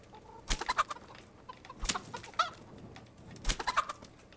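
A chicken in the Kingdom Come Deliverance video game clucks in three short bursts of sharp, choppy calls spaced a second or so apart, over quiet background.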